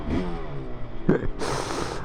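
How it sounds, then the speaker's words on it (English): A two-stroke motorcycle, a Honda NSR250 or Suzuki RGV250, revs in a quiet historic market town, with a brief, close engine rise ending in a sharp, raspy burst. "I understand why people rev two-strokes in town though."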